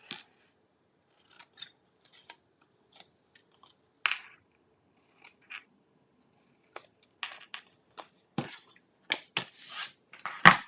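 Scissors snip through paper card tabs on a birthday piggy box craft, making a quiet, sparse series of short crisp cuts with pauses between them, growing busier and louder toward the end.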